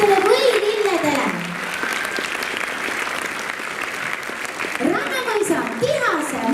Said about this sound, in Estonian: Suur aplaus väikestele võililledele.